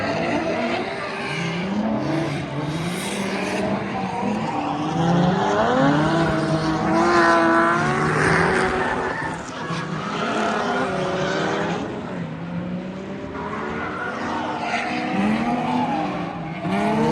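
A drift car at a Pennzoil drift event, its engine rising and falling through revs with tire squeal and skidding, loud and close, continuous throughout.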